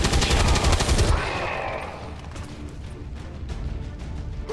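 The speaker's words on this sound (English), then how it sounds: "it's about to be Gatling guns." Rapid gatling gun fire in the XCOM video game, a loud dense burst in the first second that drops into a lower, busier spread of scattered shots and mechanical clatter.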